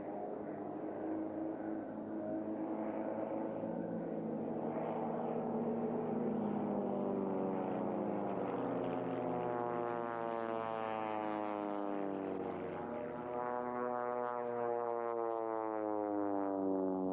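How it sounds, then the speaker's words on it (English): A small aerobatic propeller aircraft flies at the 1992 Avalon Australian International Air Show. Its engine gives a steady, droning buzz whose pitch rises and falls as it passes overhead. "There are about 20 of these little aircraft in Australia and New Zealand."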